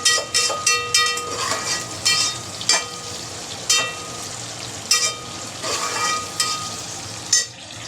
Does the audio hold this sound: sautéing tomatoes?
yes